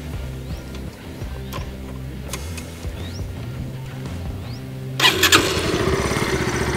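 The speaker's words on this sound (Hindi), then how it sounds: "ये मैंने बाइक स्टार्ट कर दी है" A 2020 Bajaj Pulsar NS 160 motorcycle engine cranks and fires up suddenly after a few quiet seconds, then settles into a loud, rapid, throbbing idle close by.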